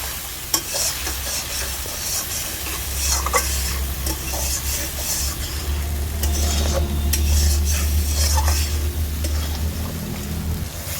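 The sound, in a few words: spice paste being stirred and sautéed in a pan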